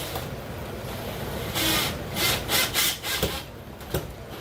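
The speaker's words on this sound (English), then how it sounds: "let me go ahead and open up these screws real quick" Screws being unscrewed from a 3D-printed light mount for budget coral grow-out aquarium lighting, a close series of short scraping, grinding turns that cluster in the second half over a faint background hiss.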